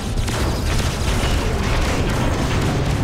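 A Starkiller torpedo fires in the space combat game Freelancer: a loud, dense, continuous booming rumble, like sustained heavy weapons fire, filling the whole stretch without pause.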